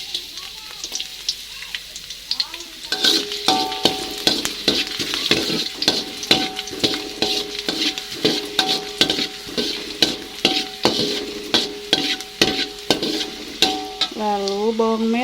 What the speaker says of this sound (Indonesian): Jika minyaknya sudah panas, pertama-tama kita tumis bawang putihnya dulu.